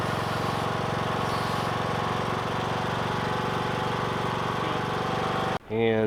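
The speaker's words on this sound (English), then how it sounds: "this was the first little mini lawn tractor ride of the season so far" A small riding lawn tractor engine runs steadily with a rhythmic, chugging mechanical drone, close and fairly loud, then cuts off abruptly near the end.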